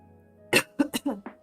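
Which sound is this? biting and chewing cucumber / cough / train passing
cough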